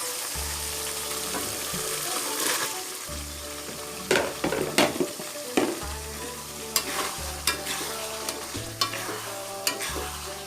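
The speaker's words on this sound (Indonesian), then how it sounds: "Setelah bumbu wangi, masukin dagingnya." Beef fries in rendang spice paste in a pan, a loud continuous sizzle broken by repeated scraping and clacking strokes of the spoon as it is stirred.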